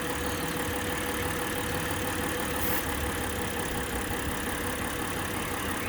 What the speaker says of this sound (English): you see the engine start shaking up